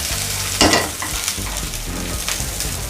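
Ingredients stir-frying in hot oil in a pan for a Thai herbal soup with crispy snakeskin gourami, with a steady close sizzle and a few louder scraping strokes of a utensil.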